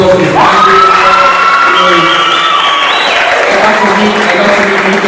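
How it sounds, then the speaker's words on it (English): A crowd breaks into loud applause with cheering and whoops, close and energetic, steady clapping over rising shouts and whistles for the whole stretch. "Put a round of applause for his family."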